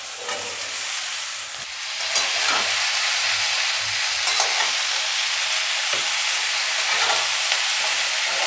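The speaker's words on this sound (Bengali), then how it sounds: "এখন এই সব মশলাটাকে একটুখানি নেড়ে নিয়ে, দেখুন আলুগুলোও ভাজা ভাজা হয়ে এসছে" Spices and potatoes fry in a pan while being stirred, giving a steady loud sizzle with brief scraping stirs throughout and no voices.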